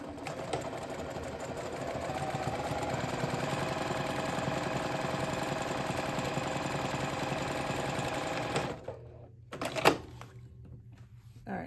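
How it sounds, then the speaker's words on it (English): A sewing machine top stitches along a folded fabric edge with a fast, steady mechanical whir for about nine seconds, then stops, followed by a few handling clicks and knocks. "I'm just going to top stitch right along this folded edge."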